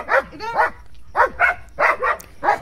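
Several dogs bark at a porcupine in a series of loud, close yaps and barks, clustered in bursts with short pauses between them.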